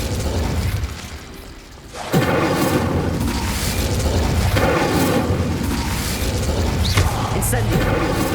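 Incendio spell cast at braziers in the Hogwarts Legacy video game: a sudden loud whooshing burst of flame after a quieter moment, followed by a sustained roaring fire with further surges and crackles.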